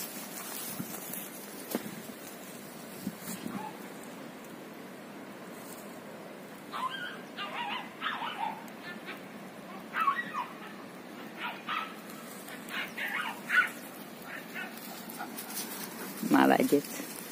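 A Jagdterrier dog whimpers, yips and gives short barks during retrieve training outdoors, the sounds scattered and intermittent, clustering toward the end, with a person speaking nearby at times.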